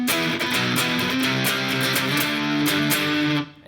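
Smart electric guitar played through a high gain effect with a tight noise gate, a loud, continuous run of saturated riffed notes and chords lasting a few seconds before cutting off abruptly at the end.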